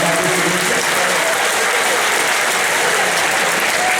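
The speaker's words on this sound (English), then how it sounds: "Let's give Allie a huge round of applause." An audience at a presentation breaks into loud, dense applause, a steady wash of many hands clapping throughout with faint voices underneath.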